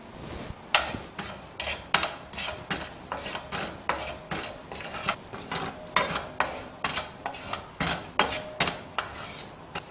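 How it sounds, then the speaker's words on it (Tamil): Cumin seeds dry roasting in a pan on the stove, with a spoon scraping and rattling them in quick, rhythmic strokes, steady and close throughout. "இந்த அடுப்பில் சீரகத்தை போட்டு வறுத்துடலாங்க."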